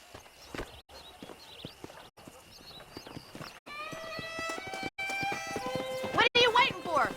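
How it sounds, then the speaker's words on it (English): Wild horses' hooves clatter rapidly as they gallop in the video game Red Dead Redemption, with a loud whinny near the end, over game music and ambient tones. "there's a pack of wild horses nearby."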